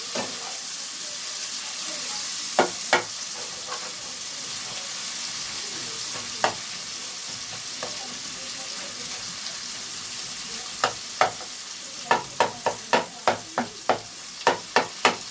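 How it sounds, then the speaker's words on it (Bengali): Fish sizzles steadily in oil in a pan while a spatula presses and mashes it, sharp scraping taps coming sparsely at first, then in a rapid run of strikes near the end. "আমি খুন্তি দিয়ে এটাকে একটু থেতো করে দিচ্ছি, যাতে ভালোভাবে ভেতরটা ভাজা হয়ে যায়"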